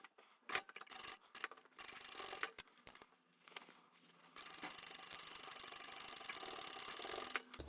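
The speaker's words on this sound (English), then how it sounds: "So that was my handle that I've just triple stitched." Sewing machine triple stitching a handle on a fabric book bag, heard as a close, steady mechanical rubbing and clicking hum that starts and stops in bursts before running continuously.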